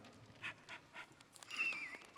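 Rhythmic panting from a hound dog, recorded for a middle school radio play, faint and close, about four even breaths followed by a higher whine.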